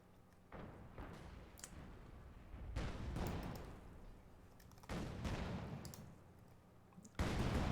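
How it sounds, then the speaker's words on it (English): Battle noise from Company of Heroes 2 comes in several separate bursts: heavy thuds and explosion-like blasts mixed with gunfire rise and fade in turn, with no voices heard. "Thought I heard an explosion there."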